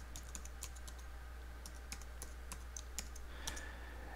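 Fast, crisp keystrokes as a Linux install command is typed on a computer keyboard, scattered close taps over a steady low hum with no speech.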